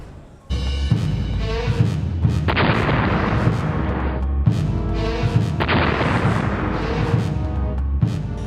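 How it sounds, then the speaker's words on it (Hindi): Car bomb blast hitting a convoy on a highway, heard in news footage as a series of loud, heavy booms and crashing bursts with rumbling low end, repeating over several seconds. "हाईवे से गुजरता है काफिला और उस पर कार बम धमाके से हमला।"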